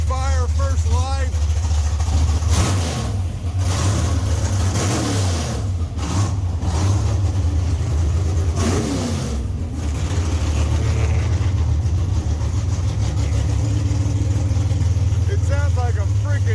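A Mopar 340 cubic-inch V8 with a W2 tunnel ram and roller cam fires up for the first time in a shop, roaring loud and steady with revs rising and falling, close by throughout, with people talking over it.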